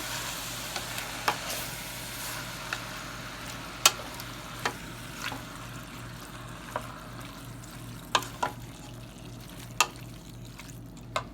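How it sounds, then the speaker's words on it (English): A spoon stirs a pot of beef vegetable soup with diced tomatoes, giving faint scraping clinks at irregular moments over a low, steady simmer hum. "We're going to give this a stir"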